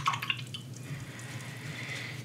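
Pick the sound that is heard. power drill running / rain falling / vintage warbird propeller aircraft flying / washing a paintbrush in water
washing a paintbrush in water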